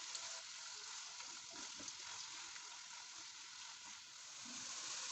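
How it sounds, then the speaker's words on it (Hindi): Onions sizzle and fry in ghee in a pan for a chicken feet curry, a steady, fairly quiet crackling hiss with no talking. "और सबसे पहले हम इसमें ये प्याज शामिल करेंगे और इसे लाइट ब्राउन करेंगे"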